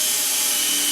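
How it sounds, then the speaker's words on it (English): A power drill fitted with a long taper bit bores into plywood, a steady high-pitched whir with a rough grinding edge that holds evenly and close up through the short burst. "here is a drill with a taper bit"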